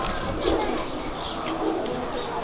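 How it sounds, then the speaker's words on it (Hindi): Racing pigeons cooing up close in a loft, soft repeated throaty coos under a busy murmur of background noise. "ये चौधरी सखी वाले 41 नंबर कबूतर है जी।"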